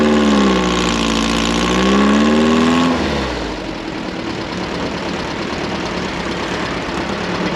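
The air-cooled 1200cc four-cylinder boxer engine of a 1959 VW sandrail runs loud and close, with a humming, pitch-shifting drone that gives way to a rougher, broader roar as it pulls away. No one speaks.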